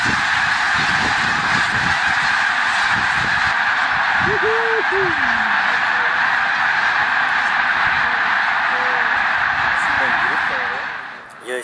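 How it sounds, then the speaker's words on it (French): A huge flock of snow geese honking continuously in a dense, loud chorus as the birds take off in a panic, with someone talking over it. "on voit les oies qui s'affolent, qui décollent, qui vont dans tous les sens"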